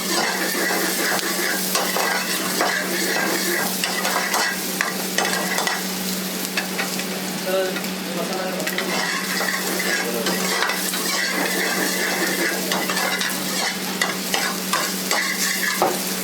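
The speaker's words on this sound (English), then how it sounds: "And we saute it. You can see that nicely sauteed." Goan masala with green chili sautéed in a restaurant pan, a loud continuous sizzle with constant stirring and scraping, close up and steady throughout, no talk.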